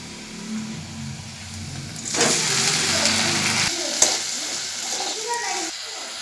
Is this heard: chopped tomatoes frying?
yes